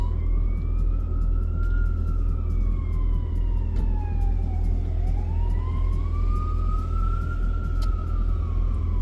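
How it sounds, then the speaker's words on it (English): A wailing ambulance siren rises and falls slowly, sweeping up and down continuously over steady low traffic rumble, fairly loud and close. "Ambulance."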